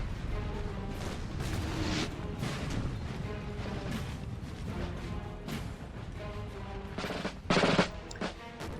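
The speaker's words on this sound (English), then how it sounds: "Could be a barrage." Artillery barrage in Napoleon Total War: a steady wash of booming cannon fire and crashing impacts rolls on throughout, with a louder burst near the end.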